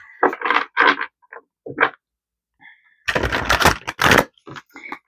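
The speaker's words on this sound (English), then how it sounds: "So let's shuffle these cards." A deck of cards is shuffled by hand, giving bursts of riffling and flicking with short pauses between them, crisp and close.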